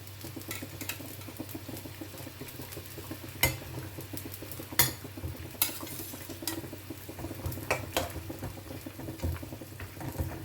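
Rohu fish pieces go into a simmering Assamese tenga curry with potatoes, a quiet steady bubbling and sizzle broken by occasional clinks and scrapes of a utensil against the pot, with no talking.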